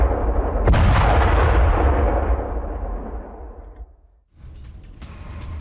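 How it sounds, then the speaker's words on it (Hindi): A loud Russian rocket barrage strikes Ukrainian positions in Donetsk, a sharp blast followed by a long roaring, rumbling wash that slowly fades, a brief hush, then renewed distant rumble and crackle. "यूक्रेनी ठिकानों पर रॉकेट बरसाए गए हैं। तस्वीरें आपके सामने।"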